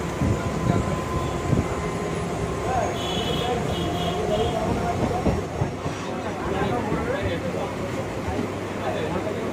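A crowded local train on the Howrah–Bandel line rumbles steadily between Serampore and Sheoraphuli junction, with a continuous close rolling roar and faint wheel clatter under murmuring passenger voices.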